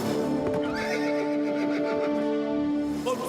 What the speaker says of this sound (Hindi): मोटू अपने घोड़े तूफान से नीचे गिर गए हैं।